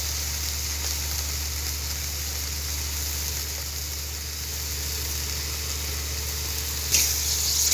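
Ginger garlic paste sizzles steadily in hot oil in a pan while a Bengali gizzard bhuna is being cooked. The close, continuous hiss sits over a low hum, with a brief clatter near the end.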